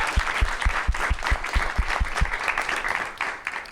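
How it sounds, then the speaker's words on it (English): Studio audience at a live New York show claps steadily for the guests, a dense, even round of applause with a few low thumps early on, alone without talk. "Let's give a big round of applause for our guests."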